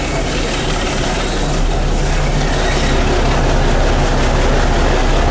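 A loud, steady roar of a moving train with rumbling wheels and broadband rattle, continuous and close throughout.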